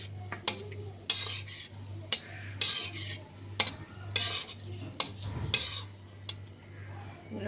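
Pantua sweets frying in a pan give a soft sizzle under a low steady hum, broken by sharp clinks and scrapes of a spoon stirring and turning them against the metal.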